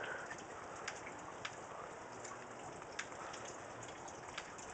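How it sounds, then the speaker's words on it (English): Heavy rain falling outdoors in winter, a dense continuous hiss with occasional sharper drop splats, steady and close with no talking. "it's raining even harder"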